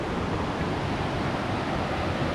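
Rushing water of the Hiawassee River, a steady broadband roar of rapids heard up close and loud, continuous without pause and with no voices.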